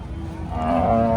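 A cow at a cattle market lets out a single short, low moo that swells and rises near the end, close and fairly loud.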